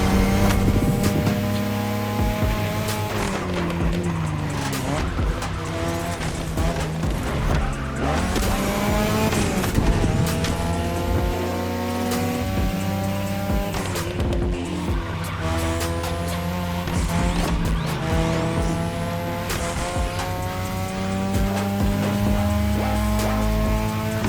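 A race car in The Crew Motorfest roars continuously at high revs, engine pitch sweeping up and down through gear changes while tires squeal and skid through corners, loud and close throughout.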